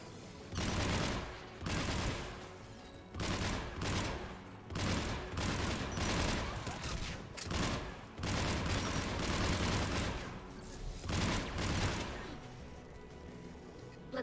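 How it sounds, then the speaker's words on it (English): Anti-aircraft gun in Mass Effect 3 firing in loud, sustained bursts of rapid booming shots, with brief gaps between volleys and heavy, continuous blasts filling the scene. "There, the anti-aircraft gun."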